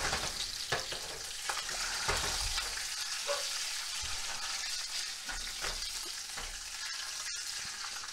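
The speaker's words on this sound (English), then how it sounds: "Put in about a tablespoon of avocado oil, and at the same time I'm going to add this chopped fat to help render it out a little." Chopped beef fat sizzling in avocado oil in a hot pan, a steady dense crackle with scattered louder pops and occasional stirring scrapes, close and continuous with no voices.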